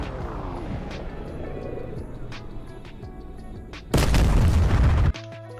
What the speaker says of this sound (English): Missile just got launched here.